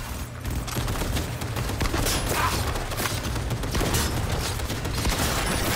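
Rapid, continuous automatic gunfire from a firefight in the video game Cyberpunk 2077: Phantom Liberty, a dense, loud burst of shots running steadily throughout with no pauses.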